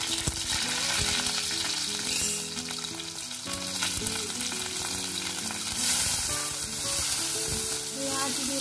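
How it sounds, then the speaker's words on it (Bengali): Green chillies sizzle in two teaspoons of hot oil in a wok, a loud continuous crackling fry broken by frequent clinks and scrapes of a stirring spoon. "লঙ্কাগুলো দিয়ে দিলাম,"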